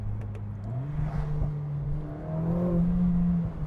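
A Mercedes-Benz A45S AMG four-cylinder engine pulls hard under acceleration, a loud sustained drone that climbs in pitch through the gears with a brief shift dip, heard from inside the car without talk.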